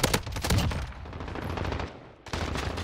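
Rapid gunfire from a PP19 Bizon submachine gun in Modern Warfare, a quick burst of close, loud shots that thins into scattered firing, then a sharp renewed volley at the end.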